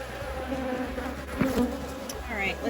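Honeybees buzz steadily around a just-opened hive on a rainy day, a dense close hum with individual bees passing near.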